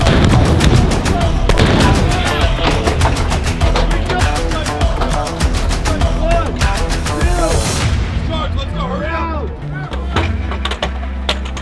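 Military artillery cannons firing on an active military base, loud repeated booming blasts in a rapid irregular series, close and powerful, with shouted commands heard between shots.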